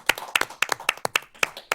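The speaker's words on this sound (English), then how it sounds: "I think we should give Dr. Little a round of applause." Board members at a trustees meeting clap in a brief, fairly quiet round of applause, a handful of distinct, rhythmic claps close by.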